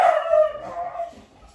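A single dog gives a drawn-out, high yelping howl that slides downward and fades over about a second, close and fairly loud, with no talking.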